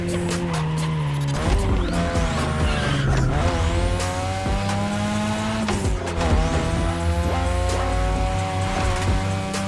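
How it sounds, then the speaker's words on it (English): A 2002 third-generation Mazda RX-7 with a rotary engine races in The Crew Motorfest, its high-revving engine whining continuously through gear changes while tires squeal and skid in loud bursts. "Your ride is a 3rd Gen 2002 Mazda RX-7. Lightweight, compact, a sick rotary engine"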